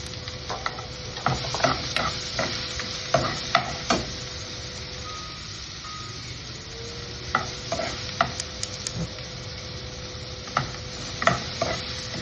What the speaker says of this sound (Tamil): வெங்காயம் வந்து கொஞ்சம் வதங்கி விட்டு